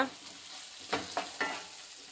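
Tomato and onion fry together in a pan for a pepper chicken dish, a soft sizzle with three quick scraping stirs close by and no voices.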